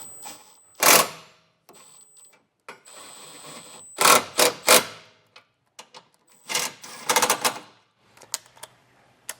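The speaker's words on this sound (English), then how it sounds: "I'll take a 16mm socket and get these rear 2 bolts tightened down." A ratchet with a 16mm socket tightens the rear bolts of a TowSmart Class III trailer hitch on a 2023 Ford. Irregular bursts of rapid, close mechanical clicking are separated by short pauses, with no talking.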